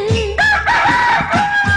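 A rooster crows in a Tamil village song, a loud, close, drawn-out call lasting under two seconds with a strained, wavering pitch.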